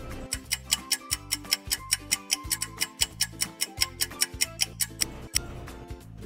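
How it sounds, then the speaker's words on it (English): A clock ticks in a quick, regular rhythm, each sharp tick distinct and close, against faint low tones. "Clock sound"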